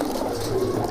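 Several Madrasi pigeons coo together, a close, continuous throaty warble with a rising-falling tone and no speech over it.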